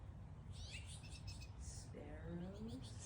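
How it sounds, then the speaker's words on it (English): Small birds at a busy morning bird feeder visited by hummingbirds, finches, sparrows and robins give faint, quick high chirps and tweets in short bursts over a steady low background hum. "Here we have a bird feeder, very active, having breakfast, chatting."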